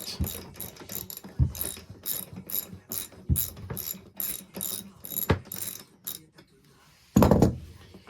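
Ratchet wrench with a 6 mm Allen bit clicking on a bolt of a Can-Am Ryker footrest, in repeated close bursts of rapid pawl clicks with short pauses between strokes, and a louder rattle near the end.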